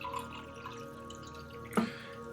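Water drips and trickles softly and close by as someone gets a drink, with one brief louder splash near the end.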